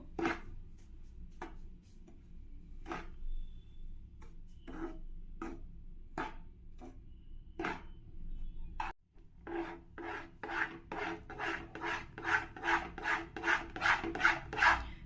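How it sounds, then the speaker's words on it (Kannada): Milk powder sweet mixture stirred in a pan before cooking, giving a steady run of dry rasping scrapes that start sparse and grow quicker and louder toward the end, close and with no voices. "ಮೊದಲಿಗೆ ಇದನ್ನೆಲ್ಲ ಚೆನ್ನಾಗಿ ಮಿಕ್ಸ್ ಮಾಡ್ಕೊಳ್ಳೋಣ"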